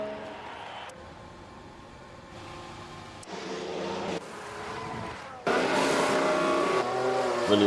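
Ferrari Formula 1 race car during a pit stop in the video game F1 Manager 22 under the Singapore night lights, with steady engine drone and racing noise that grows louder partway through, closing on a loud, dense stretch of car sound.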